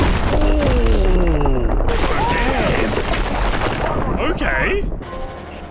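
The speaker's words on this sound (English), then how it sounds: "I'm a sucker for bassy explosions." Heavy, bassy explosions and bursts of gunfire from the Call of Duty: Advanced Warfare power plant meltdown mission, loud and continuous, with a player's brief exclamations over the battle.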